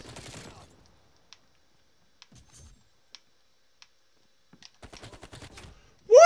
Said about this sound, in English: I shot him 38 times. Nothing.